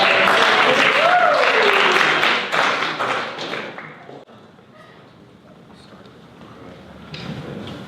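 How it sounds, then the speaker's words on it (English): An audience claps loudly for speakers at a tech and startups event, strong applause for about four seconds, then fading out into quieter room noise with a brief voice near the end. "Can we get a round of applause for our"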